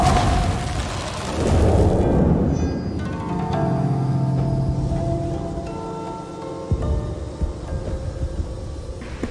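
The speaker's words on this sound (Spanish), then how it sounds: "¿Eso qué son los fuegos artificiales?" Fireworks in the video game Swords of Legends go off as a run of booms and bursts that swell into a loud rumbling crackle, then thin out into scattered pops.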